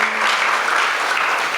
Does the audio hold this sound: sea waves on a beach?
no